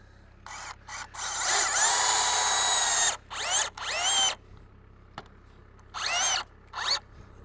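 Power drill driving screws into log cabin timbers during construction, heard as several separate whirring bursts: one long run, shorter pulses and a couple of brief zips, close and loud with quiet gaps between, no talking.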